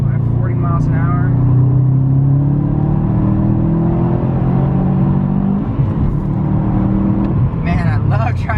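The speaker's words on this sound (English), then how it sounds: "Let's do a third gear pull at 40 miles an hour." Sports car accelerating hard in third gear from 40 mph, a loud rising engine drone with a brief gear change near the end, while a person speaks at the start and finish.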